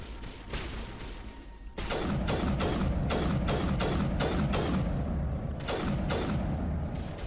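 Repeated loud gunshots in Mass Effect Legendary Edition on Insanity difficulty, a firefight with Geth and Krogan snipers, cracking in an irregular volley of about a dozen sharp reports over steady battle noise.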